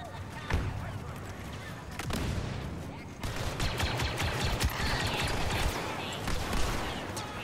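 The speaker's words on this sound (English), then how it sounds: "God, how many flashbangs are going off right now?" Flashbangs bursting amid gunfire in the Star Wars Battlefront 2 video game, a dense run of sharp blasts and rattling shots with a heavier onset partway through, continuous and loud.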